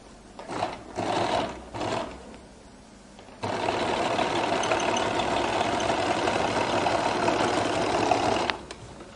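Sewing machine stitching a flared skirt, short bursts of motor whirring at first, then a long steady run of rapid stitching close by before stopping.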